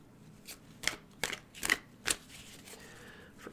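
Tarot cards are shuffled in a handful of crisp riffling bursts, spaced unevenly over a few seconds, close and fairly quiet against a soft background.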